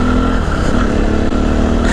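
CSC RX4 motorcycle engine running loud and close with a steady throbbing rumble and a slight pitch shift as the clutch is worked, lasting about two seconds without speech.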